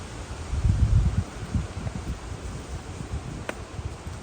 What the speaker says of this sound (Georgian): სასიამოვნო ქარია.